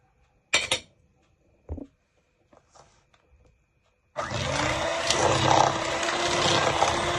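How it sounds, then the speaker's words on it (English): Butter and sugar whisked together into a paste for a Ghanaian rich cake: a few scattered clinks and knocks, then a loud, steady, whirring mixing noise that runs without a break to the end. "I'm gonna add in some sugar, and we're gonna whisk this into a"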